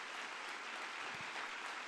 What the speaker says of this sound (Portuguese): Aquela linda e gloriosa salva de palmas